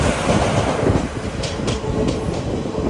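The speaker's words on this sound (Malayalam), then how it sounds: "കോട്ടയം റെയിൽവേ സ്റ്റേഷനിലേക്ക് ഇതാ നമ്മുടെ ട്രെയിൻ എത്തിക്കൊണ്ടിരിക്കുകയാണ്" Palaruvi Express rolling into Kottayam railway station, a steady loud rumble of coaches with clickety-clack from the wheels on the rails and no voices.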